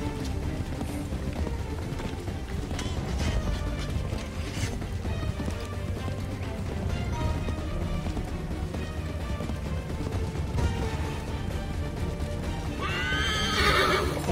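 In the Assassin's Creed III video game, a horse gallops with steady clip-clopping hooves amid battle ambience, then lets out a loud whinny near the end.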